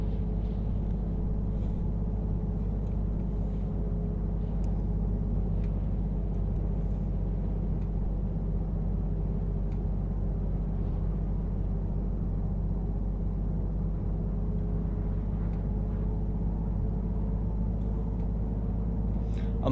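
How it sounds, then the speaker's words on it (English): A MAN Euro 6 truck engine in Euro Truck Simulator 2 drones steadily and continuously with a deep low rumble and faint ticking, no voices over it. "It's just I love the sound of this truck."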